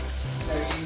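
Crab frying in a pan, a steady close sizzle running through the whole brief moment with faint low background noise.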